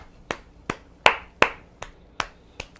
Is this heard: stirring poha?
no